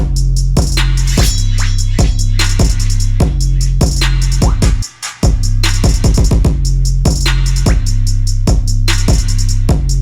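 A busy drum pattern plays on its own: punchy kicks, crisp snares and rapid hi-hat ticks over a deep low bass, with one brief dropout midway.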